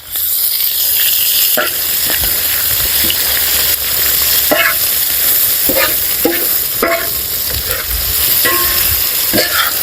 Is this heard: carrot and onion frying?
yes